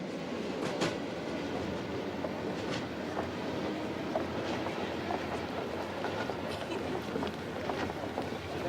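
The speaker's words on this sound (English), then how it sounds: "The last few miles of my journey into Vladivostok are along the Trans-Siberian Railway line." Train running along the Trans-Siberian Railway line near Vladivostok, a steady rumble of railway cars with faint clickety-clack from the wheels. The noise stays continuous and fairly quiet throughout, with no voices.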